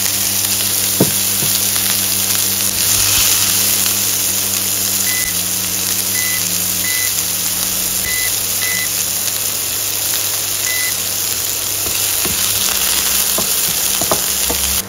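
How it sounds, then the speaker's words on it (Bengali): Chopped onion and garlic sizzle steadily in plenty of hot oil, a loud continuous frying hiss that runs throughout with a few faint electronic beeps and occasional clicks. "এতে আমি প্রথমে দিয়ে দিব পেঁয়াজ কুচি আর রসুন কুচি"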